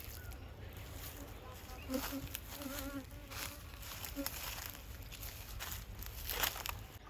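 A soft, continuous buzzing of many bees at an apiary hums throughout, with individual insects droning closer now and then against a quiet outdoor background.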